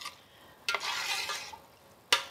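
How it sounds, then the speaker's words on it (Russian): A spoon stirs a boiling brine of sugar and salt in a pot for pickling plums, making a swishing, scraping sweep with sharp metallic clinks at the start and end. "Рассол, конечно, я немного помешаю, чтобы сахар и соль быстрее растворились."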